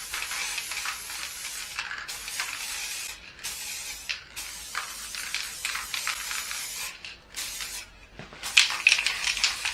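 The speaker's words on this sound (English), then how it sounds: "I'm just going to start out and start spray painting the bottom." Repeated bursts of spray paint hissing from an aerosol can onto the bottom of a piece of furniture, short pauses between sprays, close and fairly loud with no talking.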